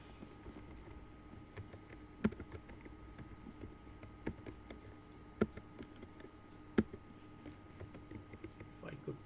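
Soft, faint typing on a computer keyboard, sparse keystrokes and a few louder taps heard at a distance over a low background hum.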